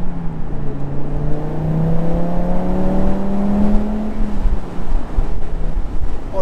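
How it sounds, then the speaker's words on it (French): A turbocharged five-cylinder Audi TT RS cabriolet with a manual gearbox and 340 hp accelerates hard. The engine note rises steadily, then eases off, with wind rush mixed in and no voices. "t'as surtout le sifflement du turbo"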